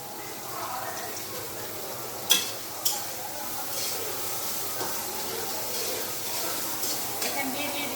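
Cinnamon, cardamom and bay leaf fry in oil in a home kitchen, giving a soft continuous sizzle with a couple of sharp clinks from utensils, fairly quiet throughout.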